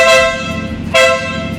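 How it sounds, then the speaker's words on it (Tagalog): An Italian Marco air horn fitted to a big bike sounds in two loud, bright, brassy blasts, the first a bit longer, with a short gap between them. "Tapos pakita natin yung Marco air horn."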